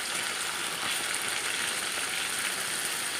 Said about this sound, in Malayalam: കിടന്ന് നന്നായിട്ട് എണ്ണയ്ക്കകത്ത് തിളയ്ക്കുന്നത് നമുക്കൊന്ന് മറിച്ചിടാവേ